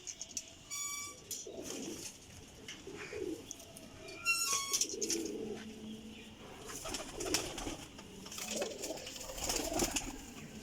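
Soft, close cooing from Rampur Teddy pigeons rolls in repeated low phrases, joined by a few brief higher chirps and tonal squeaks near the start, with no voices.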